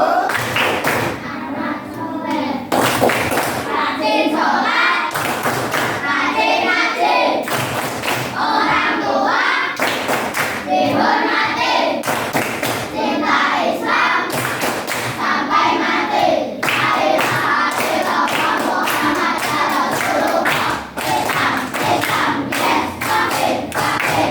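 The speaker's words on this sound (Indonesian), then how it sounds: "Oke, tepuk semangat dulu" A class of primary school children claps a rhythmic spirit cheer in an Indonesian elementary classroom, with loud, repeated bursts of hand claps under a teacher's voice and children's shouting.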